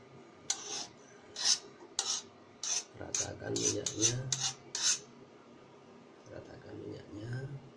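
Metal spatula scraping and spreading oil across a pan on an electric stove while preparing fried rice, a series of short rasping strokes, close and fairly quiet, with a low sizzle building partway through.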